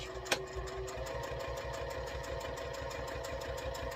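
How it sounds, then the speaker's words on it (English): A sewing machine runs steadily while top stitching an eighth of an inch around the edge of a fabric sticky-note case, with a fast, even mechanical rhythm close by and a single sharp tap near the start. "we're going to top stitch 1/8 of an inch all the way around"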